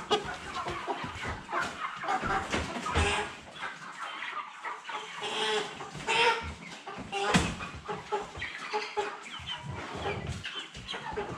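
A flock of 55-day-old Cobb-500 broiler chickens clucks and squawks up close in a busy, overlapping chorus, with occasional human voices mixed in.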